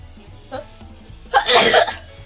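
A single sneeze bursts out loud and close in a quiet indoor room during a gaming stream, preceded by a small breath or catch.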